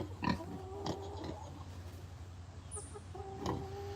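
Faint, scattered low grunts from pet pigs, mixed with soft clucking from poultry against a quiet farmyard hum.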